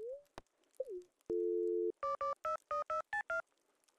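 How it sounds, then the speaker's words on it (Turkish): Telephone sounds in the Stardew Valley Expanded video game: short blips, a long steady dial tone, then a quick series of seven even beeps, clear and alone. "Telefon."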